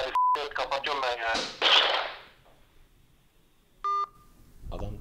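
Phone call ending tone after the other party hangs up, heard as a short electronic beep sequence following speech, with a clear beep near the start and another toward the end.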